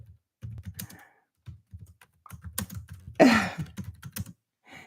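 Typing on a computer keyboard, bursts of soft close key clicks in uneven rhythm with short pauses, plus a brief breathy sigh partway through.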